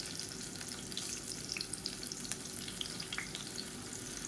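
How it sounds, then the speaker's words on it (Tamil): Slices of raw banana (vazhakkai) sizzle and crackle steadily in hot oil in a dosa tawa-style pan, a dense continuous frying hiss with small pops throughout and no talking. "எண்ணெய் நல்லா சூடாயிடுச்சு ஒவ்வொரு வாழைக்காயாக சேர்த்துக்கலாம்"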